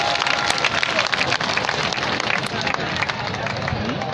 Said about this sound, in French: Il faut s'applaudir encore.